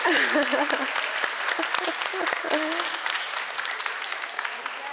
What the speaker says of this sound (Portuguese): uma salva de palmas para elas, que ficaram cortando tudo